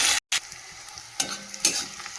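Onion fries in hot oil with cumin and bay leaf while being stirred, a close sizzle broken by a sharp cut and a few scraping stirs of the spoon.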